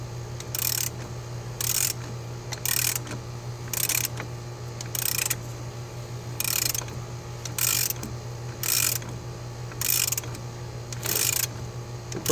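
A ratchet wrench with a 21 mm socket tightens transmission bolts on a 2013 Nissan Murano CVT. It makes bursts of sharp clicking about once a second, with short pauses between strokes, over a low steady hum.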